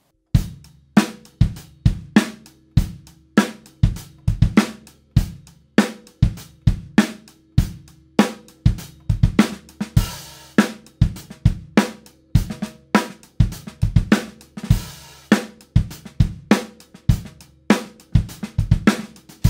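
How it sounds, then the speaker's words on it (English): A tight drum groove loops steadily with sharp kick and snare hits, hi-hats ticking between, and an extra sixteenth note tucked in at the end of each bar. "Let's add a 16th note after the very last note in the groove."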